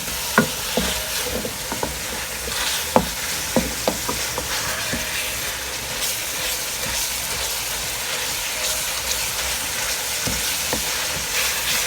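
Minced meat fries with flour in a pan under a continuous close sizzle, while a spoon or spatula scrapes and knocks against the pan in scattered sharp taps.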